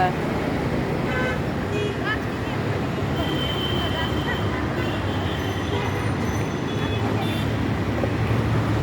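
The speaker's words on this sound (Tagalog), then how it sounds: "malapit siya sa daanan kaya maingay yung mga sasakyan" Roadside traffic beside a plant stall: a steady, loud wash of passing cars and vehicle noise with occasional horn toots, continuous for the whole stretch.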